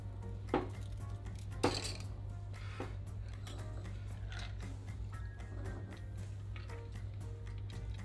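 Ice being stirred in a mixing glass for a shochu gimlet cocktail, faint clinks and scrapes with a few sharper knocks, quiet over a low background hum.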